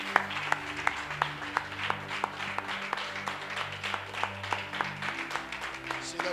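A church congregation applauding in rhythmic unison, claps landing on a steady beat over sustained organ or keyboard chords and a murmur of voices.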